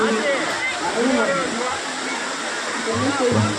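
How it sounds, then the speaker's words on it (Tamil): Continuous roar of a waterfall in the Thirumoorthi Hills, water pouring and splashing steadily, with a voice faintly mixed in beneath the rushing. "நல்லா தண்ணி போகுது"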